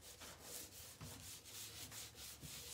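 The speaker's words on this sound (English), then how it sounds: "again, I'm just going to take my" Sandpaper rubs back and forth along the edges of a wooden piece in quiet, rhythmic strokes, close and faint with no talking.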